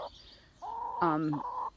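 A couple of drawn-out, nasal chicken calls, the second louder and wavering, with a faint bird chirp at the start.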